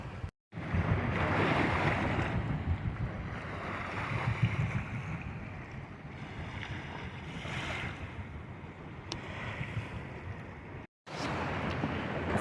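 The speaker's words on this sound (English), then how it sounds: "I don't know if you can hear the sloshing waves in the background" Waves from a big passing boat's wake slosh against the shore at dusk while out pikeminnow fishing in Oregon, a soft, continuous wash rising and falling with some wind noise, interrupted by a brief cut near the end.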